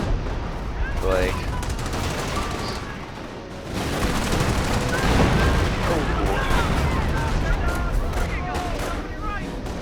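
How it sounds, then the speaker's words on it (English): Artillery fire and battle noise in the video game Company of Heroes: dense, continuous rumbling explosions and gunfire crackle that drop briefly, then return louder, with someone talking over it. "artillery"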